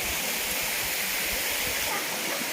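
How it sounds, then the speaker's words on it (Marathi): Waterfall pouring down a rocky cliff at the Kalamjai temple, a loud, steady broadband rush of falling water filling the whole moment with no break or voices. "ह्या कड्यावरून धबधबा देखील वाहते पाणी देखील पडतंय"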